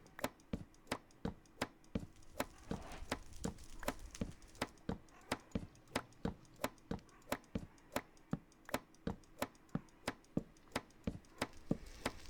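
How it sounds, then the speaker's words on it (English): Mutton is chopped on a cutting board in Minecraft: about twenty crisp, evenly spaced chops at a brisk, steady rhythm, quiet and close, with no talking. "put it in your offhand and then you start chopping"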